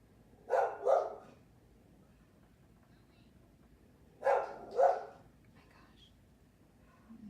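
A dog indoors, reacting to squirrels outside, gives two pairs of short, sharp barks separated by a few seconds of quiet, moderately close with faint room noise between.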